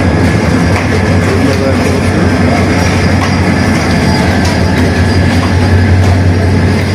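A local passenger train runs into a rural station at night with a loud, steady rumble of wheels on rails, faint rhythmic clatter and a high squeal running through it, close by and with no talking.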